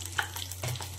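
Food fries in a pan while being stirred, soft sizzling under light scraping and clinks, faint and close.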